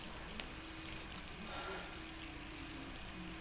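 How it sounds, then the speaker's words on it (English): A tap runs inside Resident Evil 3, giving a faint, steady trickle of water under a low background hum, with one small click near the start. "Hey, turn that off. You're wasting water."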